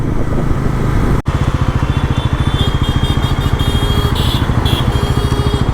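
A Bajaj Pulsar NS400 motorcycle being ridden, its engine throbbing in a steady, rapid pulse, loud and close, with a brief sharp knock early on and a thin whine rising later.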